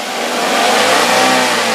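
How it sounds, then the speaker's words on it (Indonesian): A 2011 Daihatsu Granmax 1.3 pickup engine is revved up close, a loud, rising and sustained mechanical whine with steady engine drone. "Coba sedikit digeber lur."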